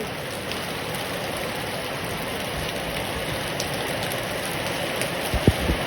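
Steady rain pours down in a constant broadband hiss, with a few louder drops or taps near the end.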